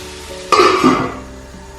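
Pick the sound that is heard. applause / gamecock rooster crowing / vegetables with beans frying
vegetables with beans frying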